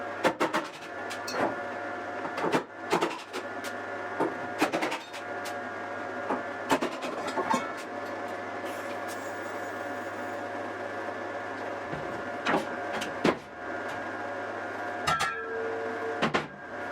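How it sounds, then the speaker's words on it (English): A TIG welder welds a seat base in a boat engine-room workshop: a steady electrical hum with a string of short, sharp crackling bursts that start and stop at irregular intervals, close by, with no talking. "So short sharp burst on the TIG to get this thing locked up, and then I'm going to rip the plastic seat off and weld this up properly."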